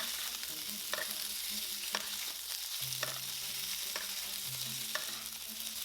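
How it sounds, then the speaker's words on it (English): Pork belly sizzling in a hot pan, cooked directly without marinade, a steady close hiss with periodic scrapes and taps of a spatula stirring at roughly one-second intervals, no talking. "and stir fry until lightly brown"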